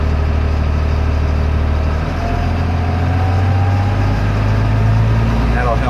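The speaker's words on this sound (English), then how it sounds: "I'm gonna turn the throttle up a bit here." An LMTV military truck's diesel engine runs steadily and loud and close, its pitch rising as the throttle is raised partway through, with a constant heavy rumble throughout.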